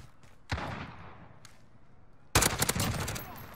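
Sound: Grau 5.56 rifle gunfire in video game Modern Warfare

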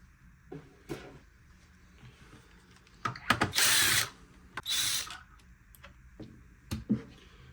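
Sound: unscrewing casing screws on Rowenta X-Plorer robot vacuum

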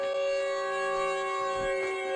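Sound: siren sound in Siren Head video game

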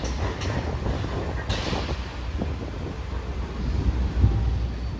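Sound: Hiroshima Electric Railway streetcar passing at Hiroshima Station

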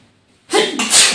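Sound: sneeze

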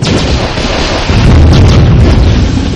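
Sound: laser satellite strike explosion in the video game Warzone 2100

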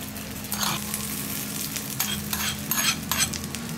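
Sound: tempering spices sizzling in a pan for coriander mint chutney

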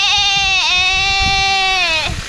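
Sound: hungry goat bleating

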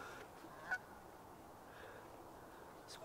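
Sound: swan or duck calling

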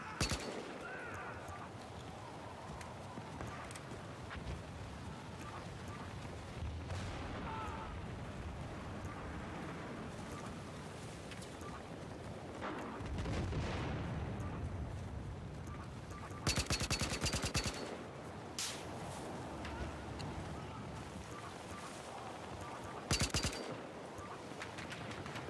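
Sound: gunfire from the video game Battlefield Hardline

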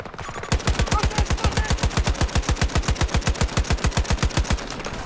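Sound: AK rifle tap fire in video game Battlefield 2042

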